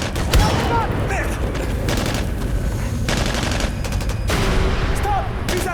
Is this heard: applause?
no